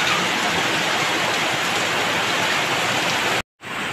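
Heavy rain pours down in a steady, dense hiss that stays loud and even, then cuts out briefly near the end.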